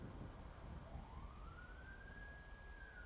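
An emergency siren, taken here as an ambulance's, rises in a long slow sweep and holds a high steady wail, heard at a distance over a constant broad background noise.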